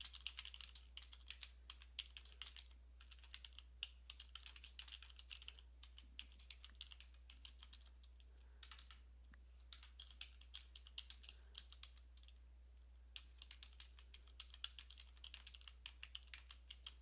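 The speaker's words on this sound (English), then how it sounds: "I'm not really proofing what I'm typing here" Steady computer keyboard typing, quick irregular keystrokes clattering close by for the whole stretch, with brief pauses between bursts and no voices.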